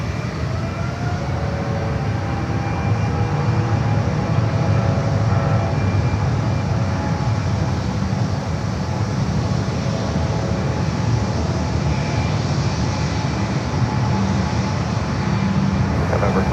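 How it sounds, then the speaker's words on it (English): A Boeing 777 heavy jet rolls down runway 28 Left at San Francisco International Airport, heard from a distance as a steady broadband roar that holds level throughout. "we do have this 777 now rolling down to 28 left"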